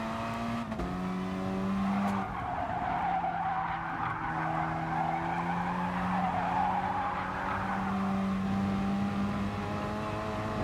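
Race car tyres skid and squeal continuously in the GT Sport racing game, a sustained screech over a steady engine drone that holds for about ten seconds with no talk.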